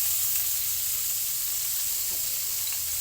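Margarine melts and sizzles in hot cooking oil in a pan while bopis with tofu is cooked, giving a steady, close, even hiss that runs the whole time with no talk over it.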